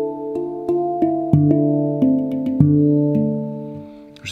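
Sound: handpan ringing when lightly touched

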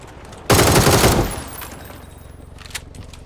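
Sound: gunfire in a video game

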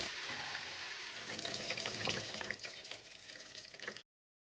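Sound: washing and rinsing with running water

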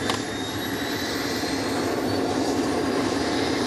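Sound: helicopter flying

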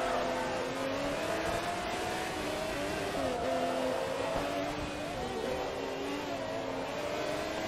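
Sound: race car engine driving in video game Forza Motorsport 2

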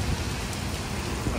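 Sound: thick heavy rain falling during Hurricane Milton

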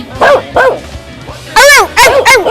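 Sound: child imitating a dog barking

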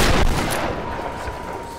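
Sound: shotgun gunfire in the video game Tomb Raider

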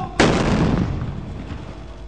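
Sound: explosion of detonated bombs

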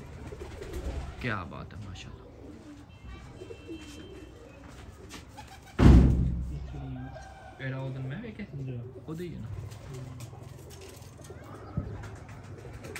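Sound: flying pigeons cooing

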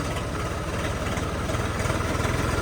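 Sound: motorcycle engine idling

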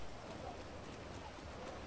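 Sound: rain falling in Grand Theft Auto video game

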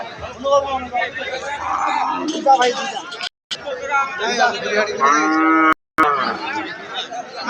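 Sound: cows mooing at cattle market

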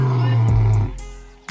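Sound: lion roaring

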